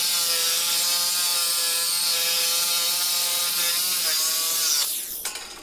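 A Sawzall reciprocating saw cuts through an old iron railing with a steady, loud, close grinding whine carrying ringing metallic overtones, then breaks off into rattling clatter near the end.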